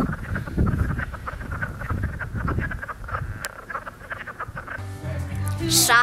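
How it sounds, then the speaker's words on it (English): Frogs croak repeatedly at close range in a chorus of rhythmic, throaty calls near Cape May, New Jersey, with other sounds mixed in toward the end. "Trying to find the frogs that are making all these noises."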